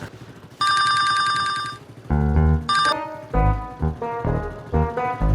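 A telephone bell rings loudly in two bursts of rapid electronic trilling at the start, followed by a person talking over the line in an Indonesian comedy sketch.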